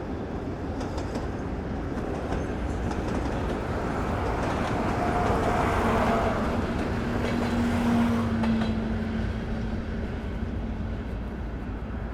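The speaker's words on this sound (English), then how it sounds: "Ooh, there's a train. See the train there?" A train rumbles past steadily near Turkmenabat, Turkmenistan, its loud continuous roar swelling in the middle, with faint wheel clatter and a brief squeal.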